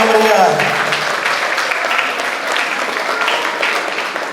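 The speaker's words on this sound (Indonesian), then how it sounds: "Tepuk tangan yang meriah." Audience applause fills a hall at the opening of a psychology faculty's 30th anniversary celebration, a dense steady burst of many hands clapping right after a gong ceremony, loud and sustained throughout with some voices mixed in.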